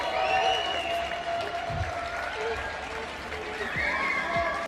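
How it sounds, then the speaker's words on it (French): Applause from apartment balconies for medical workers during the coronavirus outbreak in France, a distant, scattered clapping with whistles and cheers carrying across the street, voices mixed in. "les Français sortent sur leur balcon pour les applaudir et les remercier"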